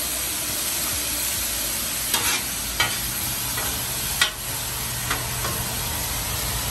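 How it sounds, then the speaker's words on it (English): Fatty beef for Cajun-style Philly cheesesteak frying in a pan as the fat renders, a steady close sizzle with a few sharp scrapes or stirs cutting through. "we left a lot of fat on this meat because you want it to cook down. It's rendering, perfect."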